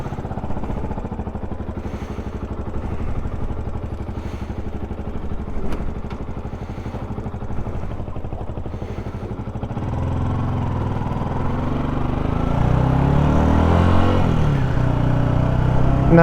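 A Yamaha YZF R125 motorcycle engine drones while riding, a steady mid-pitched hum with wind noise that swells louder toward the end, heard alone without talk.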